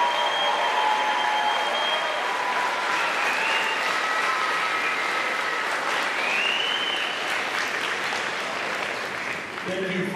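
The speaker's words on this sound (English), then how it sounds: "Round of applause for all of you." Sustained, loud applause from a large audience at a school convocation ceremony, even and continuous throughout with faint cheering or voices mixed in.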